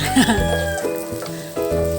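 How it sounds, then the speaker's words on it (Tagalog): Sizzling of anchovies frying in a smoking pan, with a few brief clucks and a low hum underneath; no talking. "iprito-prito muna natin. Lutuin yung dilis"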